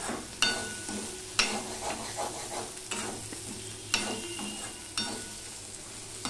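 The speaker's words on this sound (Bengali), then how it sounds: "এবার সম্পূর্ণটা মিশিয়ে দিয়ে আমি আবারও ভাজতে থাকবো, পুরো ভাজাটা হওয়ার জন্য ভেন্ডিটা।" Okra (bhindi) for a masala bhendi fries in a pan while being stirred, with a steady sizzle broken by repeated sharp scrapes and clatters of the spoon roughly every second, close and with no talking.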